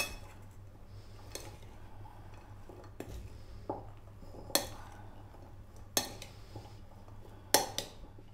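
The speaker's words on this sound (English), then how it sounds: "I'm going to give that a mix." A utensil tossing chicken salad with tomatoes and onion in a bowl gives intermittent sharp clinks and scrapes against the dish, about five distinct strikes at irregular intervals over quiet room tone.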